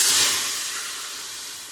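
Water poured into a hot pot of frying food for Haitian diri sos pwa bursts into a loud, steamy hiss that slowly fades over under two seconds, with no voices.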